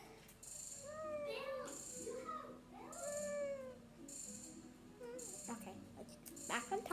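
A child's closed-mouth voice imitates a cat's meow in a short series of rising and falling meow-like calls, heard close and fairly quiet against a soft indoor background.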